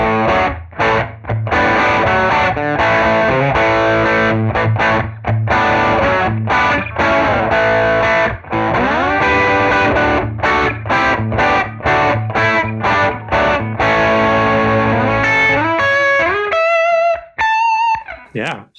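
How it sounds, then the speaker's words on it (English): Electric guitar played through a Universal Audio Showtime amp plugin with overdrive engaged, giving a loud, sustained distorted tone across strummed chords and runs, ending in a few brighter single notes. "This would probably sound quite good with the overdrive."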